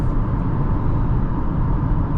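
Engine of a 2025 Mazda CX-5 GS SUV accelerating at part throttle, a steady low droning hum with road noise, heard from inside the cabin.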